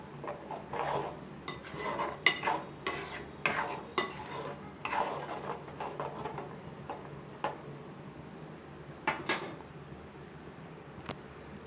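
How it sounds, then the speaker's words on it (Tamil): Tomato masala stirred in a pan, light metallic taps and scrapes of a spoon in an uneven rhythm, fairly faint and close. "நல்லா கலந்து விட்டுக்கோங்க."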